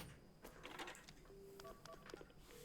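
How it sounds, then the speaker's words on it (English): A payphone in a video game is dialed, with a quick sequence of faint electronic tone beeps of varying pitch, short and evenly spaced, with no talking. "The phone. I need to call an ambulance. Okay, the payphone."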